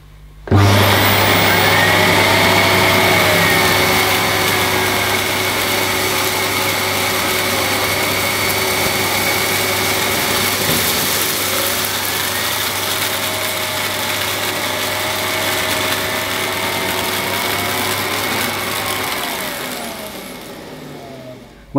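An AEG Vampyr Chroma vacuum cleaner with a turbo nozzle runs loud and close, a steady high motor whine with a low droning hum that starts abruptly, holds for about twenty seconds and then winds down.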